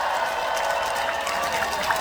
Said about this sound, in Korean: 오늘 이 자리에 박서진 잘 왔다 생각하시면 큰 박수 한 번만 치겠어요?